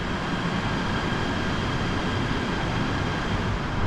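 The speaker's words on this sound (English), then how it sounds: "So there goes the train." Train passing through a station in Kuala Lumpur, a steady broadband rumble and rush that stays constant throughout, fairly close with no talk.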